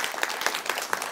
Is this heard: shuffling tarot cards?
no